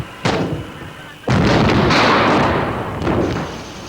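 A burning Buffel ammunition truck explodes in a sharp blast followed by a heavy, sustained roar and rumble, loud and close, with a further burst near the end.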